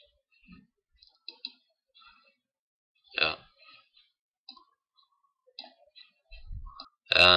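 Sparse, sharp mouse clicks on a Windows computer, single and paired taps scattered across near silence, with a louder cluster of clicks near the end.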